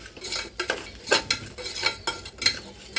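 Chopped vegetables for vegetable pulao are stir-fried on a low flame, with a metal spoon scraping and clinking against the pan in repeated strokes over a faint sizzle, close and distinct.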